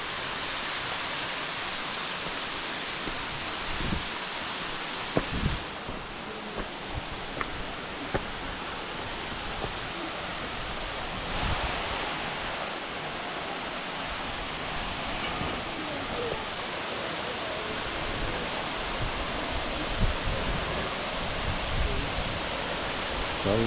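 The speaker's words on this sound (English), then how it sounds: "So this is the highest waterfall" Can-umantad Falls, the tallest waterfall in Bohol, Philippines, roars as a steady broadband rush of falling water, loud and unbroken, with faint voices now and then.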